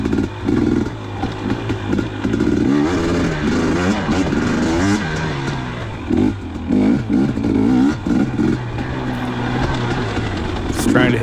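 A KTM 250xc two-stroke dirt bike rides singletrack at Johns Peak, its engine loud and close, revving and clattering continuously with rising and falling pitch as the rider works the throttle.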